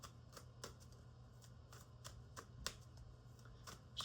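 Tarot cards being shuffled by hand, a steady run of crisp riffling and flicking bursts in quick irregular rhythm, close and fairly quiet over a low hum, with no talking.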